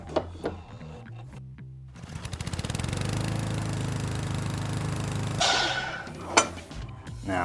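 A miter saw set to a 30-degree bevel spins up with a steady whine, then bites through a wooden side piece in a loud, sustained buzzing cut of about three seconds before winding down.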